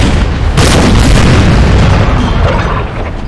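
Loud cannon fire in the video game Napoleon: Total War, during a naval Battle of Trafalgar (1805) against French ships: a heavy boom opens, then a sustained rolling thunder of blasts that slowly fades.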